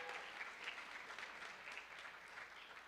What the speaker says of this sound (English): Would you all give him an unbelievable round of applause?